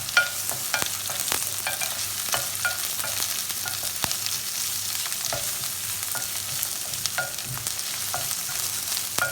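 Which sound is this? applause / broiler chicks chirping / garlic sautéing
garlic sautéing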